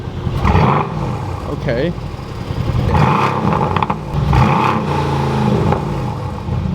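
A tuned Mercedes C63 AMG gives a brief engine rev with a deep roar, and people talk and react around it.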